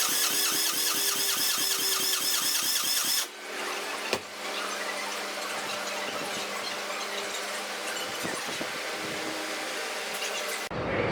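An engine that has sat for two years is cranked over without a priming tool, giving a steady rhythmic churning for about three seconds, followed by a loud, dense mechanical din that runs on before stopping abruptly.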